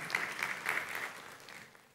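A church congregation claps briefly in scattered bursts during a Spanish-language service, the applause fading out over two seconds.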